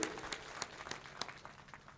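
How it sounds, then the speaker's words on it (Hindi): An audience breaks into applause after a speech at a poetry gathering, the claps faint and distant, with a few sharper individual claps standing out from the soft wash. "मैं चाहता हूं एक बार जोरदार ताली बजाएं आज के उनके इस संबोधन के लिए"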